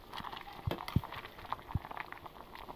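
Rice boils in a covered pot with a steady, quiet bubbling, and occasional louder pops and plops rise out of the low simmer.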